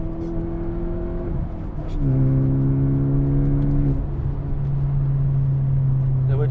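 A Fiat Punto Evo Supersport engine drones steadily from inside the moving car, its pitch stepping up and down with gear changes, with faint road noise underneath.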